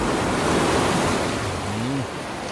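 Ocean waves wash steadily onto a shore, a loud, continuous rushing roar with wind buffeting the microphone and a low drawn-out tone near the end.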